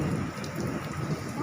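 Heavy rain pours down steadily, a dense, continuous hiss of drops striking surfaces close by, with no voices.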